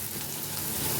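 Onions with turmeric frying in hot oil in a pan, a steady close sizzle and crackle heard alone for about a second.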